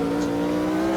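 A 1969 race car in Automobilista 2 accelerating under power, a close, loud steady engine drone with strong harmonic tones held through one short burst, no talk.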